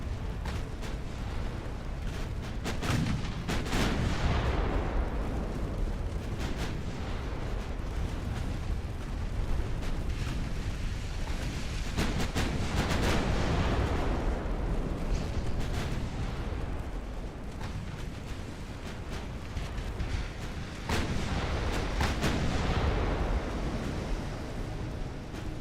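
Naval guns fire at a light cruiser in the warship game Ultimate Admiral Dreadnoughts, with heavy booming salvos about every nine seconds, each followed by a long rumbling roll and a wash of sea-like noise between them.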